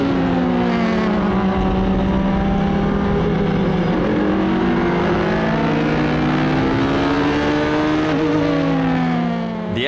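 LMP2 Le Mans Prototype race cars passing at Fuji during an Asian Le Mans Series three-hour race, several high-pitched engines whining past one after another with rising and falling pitch sweeps, loud and continuous.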